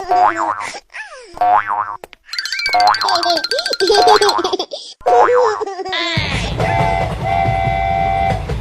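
A cartoon train ride in a Hindi children's cartoon: bright boing effects, whistles and rolling train sounds mixed with playful music, with cartoon voices throughout and a steady loud rumble toward the end.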